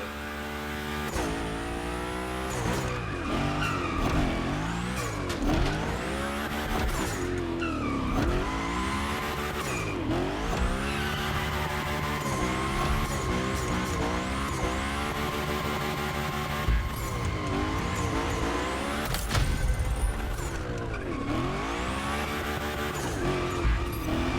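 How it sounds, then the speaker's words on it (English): In the Motorfest racing game, the Hoonigan gymkhana car drifts and skids through a course with a continuous engine roar, repeated rising and falling revs, and sustained tire squeals, all loud and close for the whole stretch. "the Hoonigan, that's a tire-slaying monster"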